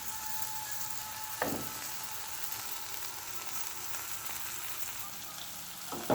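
Jackfruit curry fries in a pan with a steady, soft sizzle, broken by a couple of brief knocks from stirring.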